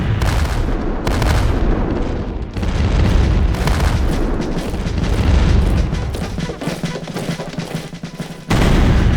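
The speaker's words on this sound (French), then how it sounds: "je veux tous les canons ici, former une grande batterie" Cannon artillery in a France versus Sweden video game battle fires as a loud, continuous barrage of heavy booms that overlap with almost no pause.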